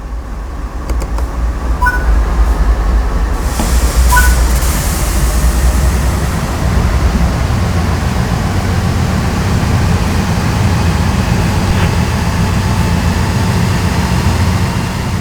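A heavy CSX 8221 freight locomotive pulls away in Train Sim World 5 with a loud, steady low diesel rumble and rolling drone, plus a few brief clanks early on.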